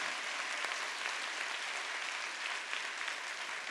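Congregation applause fills a church during a Korean Sunday worship service, a steady dense wash of many hands clapping at once, sustained and fairly even for a few seconds with no talk over it.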